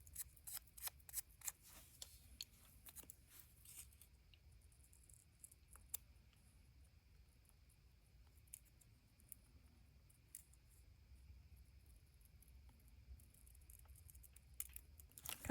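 Scissors snip through thin paper while a quilt-themed greeting card is trimmed: faint, sparse cuts and small rustles in a quiet room, with soft clicks scattered through.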